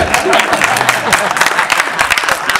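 Audience clapping at a film song launch event, a dense, steady burst of applause from a crowd, fairly loud throughout with a voice briefly audible beneath it.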